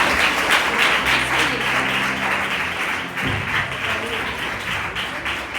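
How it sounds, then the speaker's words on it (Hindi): An audience applauds a Sunday School students' stage performance of the Prodigal Son, a steady, dense wash of clapping that fills the whole stretch at fairly loud level without pause. "बहुत अच्छा कर रहे हैं, तालियां बजा दो"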